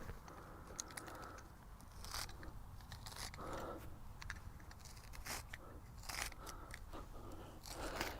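A sharp blade slices through lawn sod in a series of faint, crisp scraping and tearing cuts, each short and close, spaced irregularly over a quiet outdoor background.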